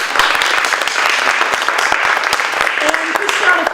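Steady audience round of applause at a November 2016 school play, dense and continuous clapping for the whole stretch with a few faint voices and whoops mixed in near the end.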